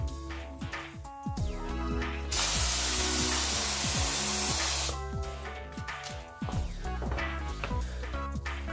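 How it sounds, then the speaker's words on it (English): A paint spray gun sprays clear coat at 40 PSI onto a pinball playfield, making a loud, steady hiss that bursts in for about two and a half seconds over background music. "You want to make sure that when you are spraying your gun that you are at a solid 40 PSI"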